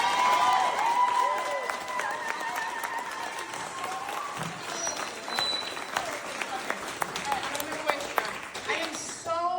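A crowd at a Knox Young Dems political event bursts into sustained applause with cheering and whistles; the clapping stays dense and loud throughout, with some raised voices in the mix.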